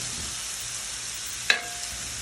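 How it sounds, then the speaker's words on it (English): A shrimp, sausage and vegetable mixture sizzles quietly in a pan while a utensil stirs it, with one sharp scrape or clatter partway through. "then you're going to stir the mixture all together"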